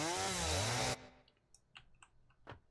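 Chainsaw in the video game Satisfactory, a loud, steady harmonic buzz of the running saw that cuts off abruptly after about a second, followed by quiet scattered clicks and soft game noises.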